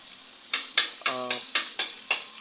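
Garlic, onion, carrots and potatoes are stir-fried in a pan, with seven evenly spaced scraping spatula strokes against a soft sizzle and one brief ringing tone in the middle, close and crisp.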